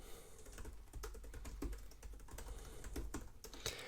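Rapid, irregular clacking of keys on a Brydge iPad keyboard with a hard plastic case, steady typing with crisp, tactile clicks and no voices.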